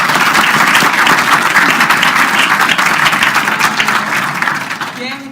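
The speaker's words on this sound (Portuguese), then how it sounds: "eu quero pedir também uma salva de palmas." A crowd claps steadily and densely at the opening of an architecture competition exhibition on Le Corbusier at the Museu Oscar Niemeyer, loud and sustained before fading slightly at the end, where a voice briefly begins.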